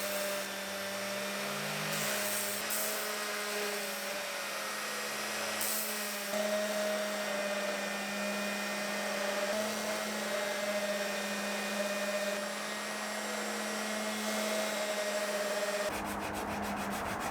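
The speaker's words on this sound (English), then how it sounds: "I clamped the orbital sander to the work surface with this wood clamp thing" A clamped, stationary orbital sander shapes the handle of a curved wooden phone stand, a continuous close whirring hum with shifting grinding rub as the wood is pressed and moved, cutting off near the end.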